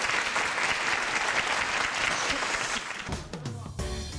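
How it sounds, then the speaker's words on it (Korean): Sustained, dense applause from an audience at a youth technology startup olympiad, greeting the judging panel, steady and full for several seconds before fading out under other sound. "공정한 심사 부탁하는 의미에서 큰 박수 부탁드리겠습니다"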